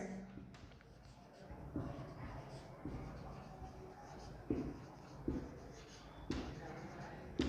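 Marker or chalk strokes writing out a matrix definition on a board, with scratchy strokes and occasional taps set under a teacher's ongoing speech in a room.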